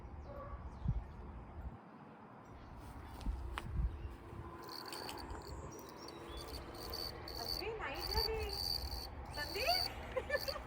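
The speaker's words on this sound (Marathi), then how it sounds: "रातकिडे आवाज बघ एवढे करतात" Crickets chirp in the darkness of a total solar eclipse in the USA, a steady high trill with faint birdsong, rumbling noise and brief voices around it.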